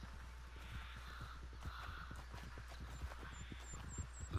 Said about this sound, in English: Where's the fucking horse?